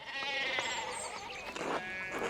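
Sheep bleating in the video game Pentiment, several overlapping wavering bleats from a small flock, clear and fairly close, with no talk over them.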